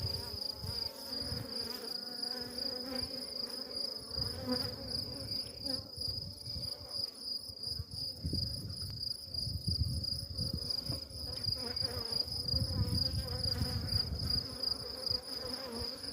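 Steady droning buzz of many honeybees swarming close around a hive, a continuous dense hum with a high whine, no voices.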